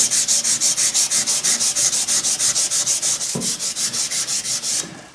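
Milled metal parts of an antique Millers Falls miter saw are sanded to take off burrs, making a loud, close, fast run of regular rasping back-and-forth strokes with a brief pause near the end.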